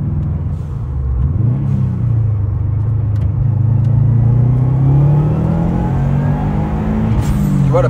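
A Subaru Impreza P1 engine is pulled up toward 5,500 rpm, a loud, close rumble whose pitch climbs steadily for several seconds and then falls away, followed by a brief sharp burst at the end.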